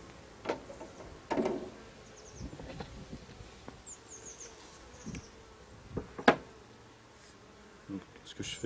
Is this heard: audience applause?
no